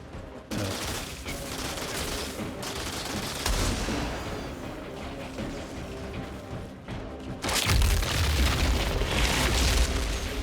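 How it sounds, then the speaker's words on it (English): Dense, continuous barrage of charged weapon shots exploding on impact in Outriders, layered booms and mechanical clatter that swell louder in the final seconds, with no talking. "It essentially makes the shots explode."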